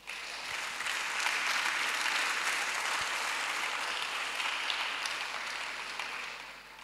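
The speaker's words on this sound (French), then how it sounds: "On peut acclamer le Seigneur." A church congregation breaks into sustained applause during a worship service, a broad, even roar of clapping that holds steady for several seconds before easing off slightly at the end.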